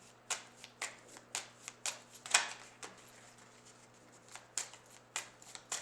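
Small tarot cards being shuffled by hand in a quiet room, with a steady run of soft, crisp riffling flutters and taps coming in separate bursts, close to the microphone.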